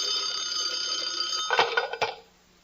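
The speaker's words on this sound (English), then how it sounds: "Suddenly the phone rings." A telephone bell rings with a steady metallic trill, then gives a couple of jangling strikes before cutting off.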